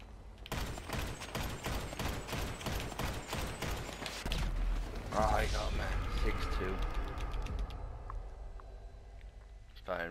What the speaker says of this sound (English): Firing rockets in there.